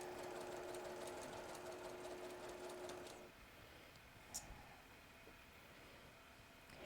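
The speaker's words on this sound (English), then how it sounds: "I'm going to go a couple more stitches." A sewing machine stitches steadily at a quiet embroidery class, a fine rapid whir for about three seconds, then stops, leaving faint room noise and a brief click.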